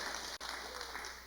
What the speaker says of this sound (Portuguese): Vamos aplaudir o Senhor por essa aula.